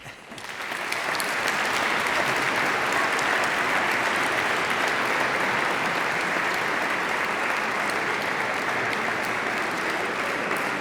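Audience applause after a choir gala concert, a big crowd clapping that swells in within the first second and then holds full and steady, dense and continuous, with no talk over it.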